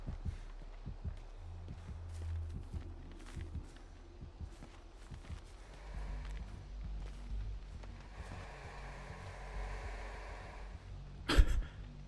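Faint throbbing heartbeat in the Dead by Daylight horror video game, a low repeated pulse under footsteps and rustling movement, ending with a sudden sharp loud hit near the close.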